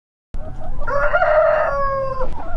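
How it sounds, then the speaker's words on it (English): Backyard chickens with a rooster crowing loudly and close by in one long drawn-out call, with clucking around it, after a brief silence at the start. "we're back here at the chickens"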